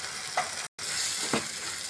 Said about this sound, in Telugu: పచ్చి వాసన పోయే వరకు ఇలా ఫ్రై చేసుకుందామండి.